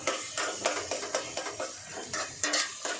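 Food frying in a pan with steady sizzling, interrupted by several clattering scrapes of a utensil stirring against the pan, close and fairly loud with no voices.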